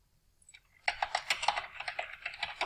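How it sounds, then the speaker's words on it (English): Typing on a computer keyboard, a quick run of close, crisp key clicks in uneven rhythm that starts after a short near-silent pause and continues to the end. "I'm going to type that here"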